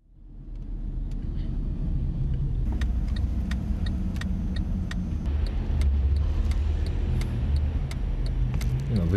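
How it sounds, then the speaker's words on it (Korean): Hybrid car with a high-efficiency engine plus motor and battery, heard from inside while driving as a steady low road rumble and engine hum, with scattered light clicks and rattles. "한 자동차 회사에 하이브리드 차를 타보았습니다."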